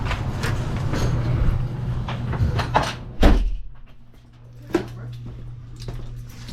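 A heavy door on a salt storage bin swings shut with a single loud thud midway, over a steady low hum and faint rustling, followed by a softer knock a moment later.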